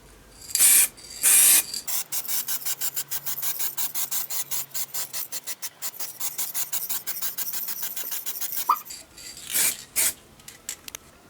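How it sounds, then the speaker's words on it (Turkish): An aerosol spray paint can sprays a car door for a local touch-up: a burst of hissing at the start, then a long run of rapid, rhythmic short sprays, and a few longer bursts near the end, close and alone. "Şimdi boya işlemine geçiyoruz."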